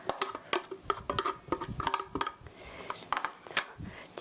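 A utensil scrapes and taps through ricotta cheese and flour in a bowl while the two are cut together for scones, making a close, quiet run of irregular clicks and scratchy strokes.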